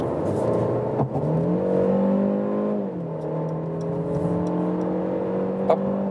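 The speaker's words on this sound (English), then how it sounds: "let's put it to 60 kilometers an hour and accelerate through to 100" A Mercedes C200 C-Class estate accelerates steadily from 60 to 100 km/h, its engine tone rising through the gears with a smooth, continuous whine and no talking.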